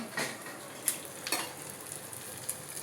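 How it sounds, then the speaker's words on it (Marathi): Steady sizzling of edible gum frying in hot ghee, with a few sharp pops and crackles scattered throughout, close and moderately loud, no talking. "डिंक तळून घ्यायचे."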